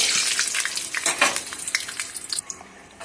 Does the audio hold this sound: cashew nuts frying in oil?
yes